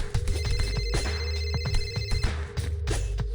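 A phone ringtone plays steadily for a few seconds with a repeating electronic tone pattern over a busy background, during a scene where a character is about to switch the phone to silent.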